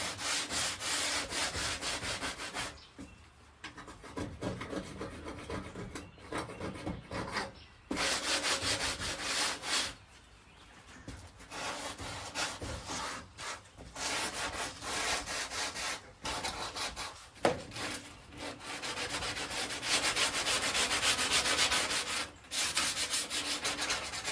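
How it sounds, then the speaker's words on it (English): Steady abrasive rubbing on an old painted wooden window sash over 100 years old, continuous back-and-forth scratching with brief pauses, close and fairly loud, no voices. "I'll give it a light sanding, try and catch any more loose."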